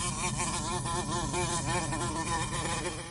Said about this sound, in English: Wasp.